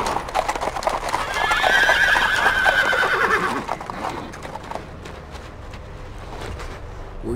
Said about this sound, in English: Sir, I hear horses coming down the road.